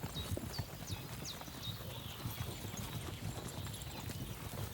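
Horse hooves clip-clop in Kingdom Come: Deliverance II, a steady rhythmic trot close by with birdsong chirping above it.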